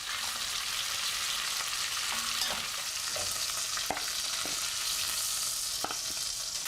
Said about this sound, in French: Je fais revenir la viande pour qu'elle soit bien dorée des 2 côtés.